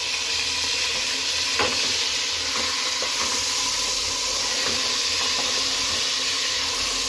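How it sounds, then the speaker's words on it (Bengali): Chicken pieces frying with browned onions in a pan, a steady sizzle running throughout with occasional scraping clicks from stirring, close and fairly loud, no talking. "দু এক মিনিট একটু চিকেনটা নাড়াচাড়া করে নিই"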